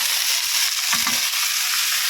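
Poppy seed paste fries in a pan with a loud, steady sizzle throughout, joined midway by a brief scrape of stirring.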